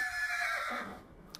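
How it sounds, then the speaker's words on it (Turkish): A horse in the Minecraft video game gives a single short neigh, a quick descending whinny close up that fades within about a second. "at bağırıyor"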